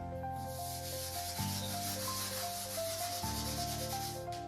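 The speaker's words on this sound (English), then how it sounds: "Gently scrub the table so that the paint stains come off." A soapy scrubber rubs gently and steadily across a paint-stained table, a soft continuous scrubbing close by with a tonal musical backing throughout.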